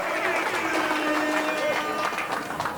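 A crowd at a rap song competition during a festival claps and cheers loudly and continuously, with a busy wash of hands and voices and scattered shouts rising above it.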